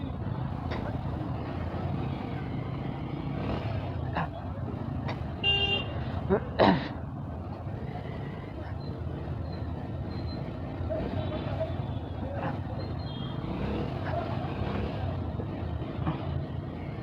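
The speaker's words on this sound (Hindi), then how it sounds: "ओह, खतरनाक ट्रैफिक है रे भाई।" Night street traffic in Diphu, Karbi Anglong: a steady, close roar of passing cars, with a brief horn toot near the middle and faint short toots later.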